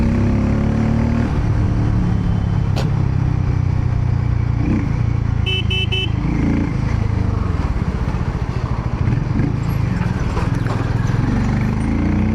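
Harley-Davidson X440T motorcycle engine running steadily while being ridden at speed through city traffic, a loud continuous low drone throughout with slight rises in revs.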